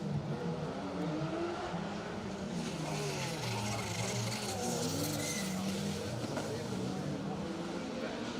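A Porsche rally car is driven hard around a circuit at a circuit rally, its engine a continuous distant roar under loud, constant commentary.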